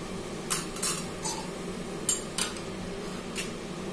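A spoon scrapes and clinks against a pan while mustard paste is mixed into tangra fish, giving a few sharp, close metallic taps spaced irregularly over a quiet background.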